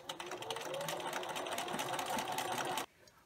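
Sewing machine running a continuous seam along the long side of a garden apron tie, a steady fast whir with rapid stitching pulses that stops abruptly near the end, close and alone.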